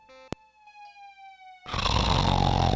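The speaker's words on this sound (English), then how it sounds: "He snores in response." A sleeping character snores in the video game Laura Bow: The Dagger of Amon Ra: a few thin synthetic tones, then a loud, harsh, sustained rasping snore that fills the rest.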